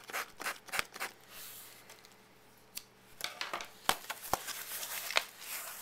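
Scissors snip and crunch through the wrapping of a gift package, close up, in irregular bursts of sharp cuts with rustling between them.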